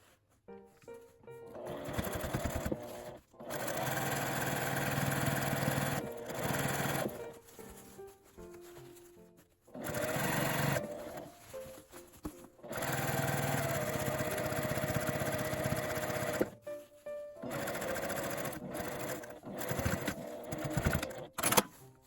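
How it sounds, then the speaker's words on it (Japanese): A sewing machine edge-stitches elastic folded to the right side of grid-patterned fabric, running in loud close bursts of rapid mechanical whirring separated by short pauses, with no talking. "ゴムを表側に倒して端ミシンで縫います。"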